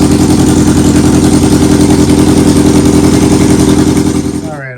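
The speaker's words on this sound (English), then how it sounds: "Now we'll start the bike up," A 2002-03 Yamaha R1 sport bike engine runs loud and steady at close range with an even, rapid firing pulse, then fades out abruptly at the end.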